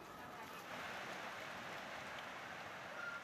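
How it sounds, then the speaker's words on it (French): Steady tropical rain in Myanmar patters densely and evenly on surfaces, a soft continuous hiss heard at a moderate distance with no other sounds. "La pluie s'est mise à tomber."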